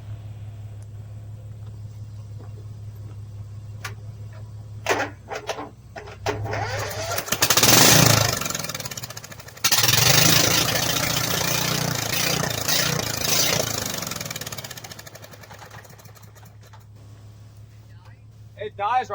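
Small engine on a minibike cranks and fires up loudly in the middle of the clip, revving and running roughly before settling toward a quieter idle, with a steady low hum underneath throughout.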